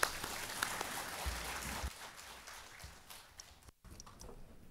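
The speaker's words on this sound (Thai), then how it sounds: "ขอเสียงปรบมือให้ท่านวิทยากรด้วยครับ" Seminar audience at an academic panel applauding the speaker, fairly quiet scattered clapping that thins out and fades over a few seconds.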